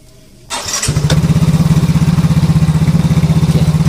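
A Yamaha Ego S FI scooter with a battery-charging fault cranks briefly, catches, and settles into a close, loud, rapid idle that putters evenly and steadily, with no talking.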